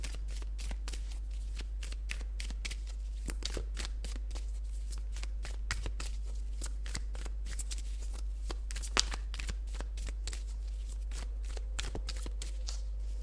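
Tarot cards being shuffled continuously, a dense run of crisp riffling flutters and slaps that stays steady and close throughout, over a constant low hum.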